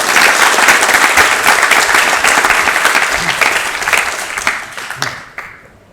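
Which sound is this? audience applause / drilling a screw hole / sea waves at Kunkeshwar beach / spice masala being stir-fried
audience applause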